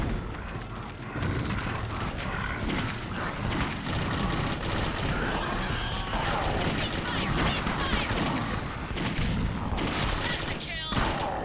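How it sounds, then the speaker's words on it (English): Dense, continuous gunfire and explosions from the first-person shooter Clive Barker's Jericho, a loud sustained barrage with booms and rattling bursts filling the whole stretch, mixed with voices. "I will keep firing."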